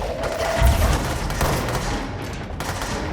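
Rapid automatic SMG fire from enemies in the video game Control, a dense sustained burst of shots filling the whole moment at close range, loud and continuous without talk.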